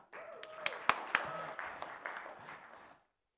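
Brief, scattered clapping from an audience at a Redmi Note 4 smartphone launch event. A few sharp claps stand out over a low murmur before it fades to silence.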